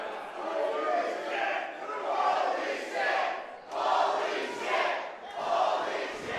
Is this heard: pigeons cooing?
no